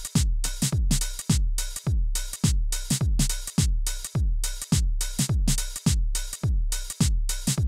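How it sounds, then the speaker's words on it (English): A basic swung drum pattern on an MPC drum machine repeats steadily, with punchy kicks and crisp hits in a regular looping groove, loud and alone without any talking. "We've got a basic drum pattern going on here, with added swing."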